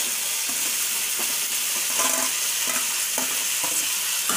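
Chicken momo filling of meat with cabbage, beans, capsicum and chilies sizzles loudly in a hot pan, with periodic scraping stirs over a constant close frying hiss.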